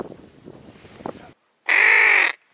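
Crows call over a spring river during a drake hunt with decoy ducks on the Oka: soft, distant caws first, then one loud, close, drawn-out caw after a brief silence.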